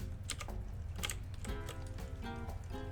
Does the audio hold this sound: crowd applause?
no